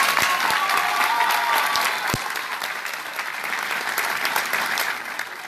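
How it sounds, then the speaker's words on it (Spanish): Theatre audience at a live music show giving strong sustained applause, a dense crowd of clapping with a few sharp nearby claps standing out, continuing steadily without talk. "Fuerte el aplauso para el más viejo de todos"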